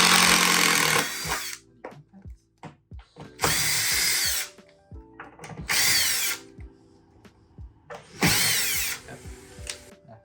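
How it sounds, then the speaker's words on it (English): A power drill backs a screw out of a door hinge in four loud, close bursts of whining motor, with quiet clicks and handling noises in the pauses between them. "So the first step is removing the screw."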